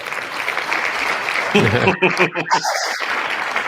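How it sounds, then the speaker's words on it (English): A crowd-noise and clapping sound effect played during a live wrestling pre-show stream, a broad wash of applause that soon gives way to people talking and chuckling over it. "Like they may as well play our clapping noise"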